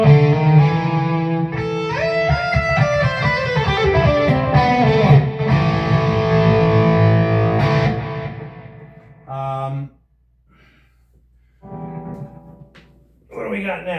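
Electric guitar with overdrive through a Peavey Vypyr X2 amp, playing bright harmonic-rich chords and runs for several seconds, then a few short separate bursts of notes with gaps of near silence between.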